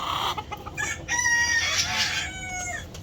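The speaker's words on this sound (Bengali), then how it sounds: "আমার সিল্কি মুরগির শব্দ শোনালাম" Silkie chickens cluck and call close by, with a drawn-out crowing note rising above a busy, quiet farmyard background.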